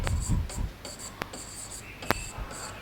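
Marker writing a sentence on a board, quick squeaky strokes and taps in short bursts, close and fairly clear with faint room noise.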